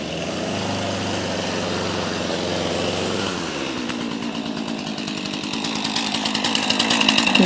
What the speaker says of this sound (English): I hear Larry with the chainsaw.